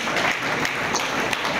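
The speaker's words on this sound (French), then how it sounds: "Applaudissez-vous, chers camarades." Party congress delegates applaud in a hall, a steady wash of many hands clapping together at moderate volume, continuous through the brief moment.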